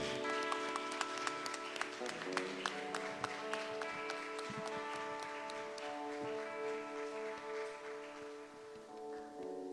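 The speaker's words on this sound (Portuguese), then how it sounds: "Vamos recebê-lo com uma salva de palmas." A crowd claps steadily in a church service, a dense patter of many hands that carries on throughout, blended with sustained musical tones in a reverberant room.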